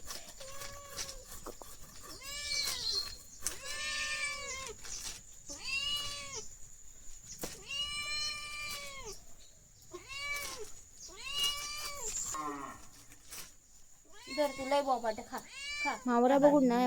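Repeated drawn-out cat meows, fairly close, one after another with brief gaps, over a faint steady hum; a more ragged, wavering cry comes near the end.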